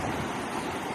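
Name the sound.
ocean waves and wind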